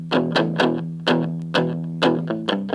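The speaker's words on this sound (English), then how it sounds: "Nice distortion, turn it up and it'll sound really great." Electric guitar with heavy distortion plays a riff in the style of a well-known rock guitarist: loud, sustained chords struck in a steady rhythm, each attack ringing out before the next.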